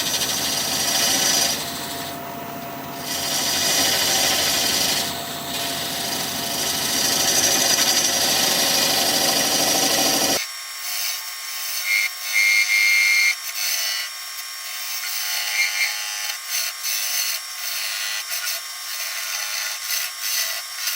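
A wood lathe turning a vase hums while a tool rubs and scrapes against the spinning wood for relief cuts, a continuous gritty cutting sound that gives way halfway to a thinner, higher, intermittent scraping.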